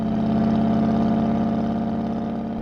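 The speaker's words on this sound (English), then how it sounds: "it makes a nice rumble, you know, beautiful V8 rumble" Steady deep rumble from an Aston Martin Vantage V8 engine and race-car exhaust while cruising, loud and even with no talking.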